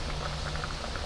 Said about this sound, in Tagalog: Hayaan muna natin siyang kumulo kasi nilagyan natin ng suka.